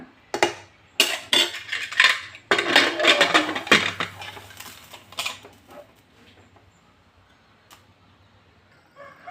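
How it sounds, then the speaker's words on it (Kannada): Metal clanks and clatter of a pressure cooker lid being shut over vegetable pulao with lemon juice, several close, sharp knocks in the first half, then fading into quiet. "ಈಗ ಕುಕ್ಕರ್ ಮುಚ್ಚಳ ಮುಚ್ಚಿಬಿಟ್ಟು ಒಂದೆರಡು ವಿಷನ್ನ ಕೂಗಿಸ್ಕೊಂಡ್ಬಿಡೋಣ"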